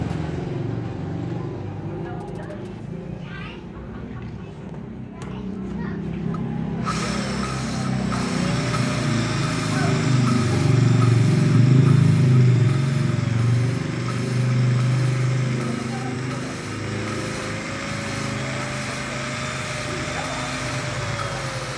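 A Honda Supra X 125 motorcycle engine idles with a steady buzzing drone alongside a continuous scraping, grinding rasp of valve lapping, fairly close, with faint voices early on.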